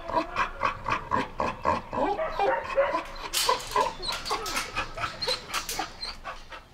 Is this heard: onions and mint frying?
no